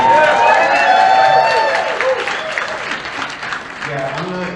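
An audience at a medical science talk breaks into clapping, loud at first and then tapering, with voices and cheering mixed in.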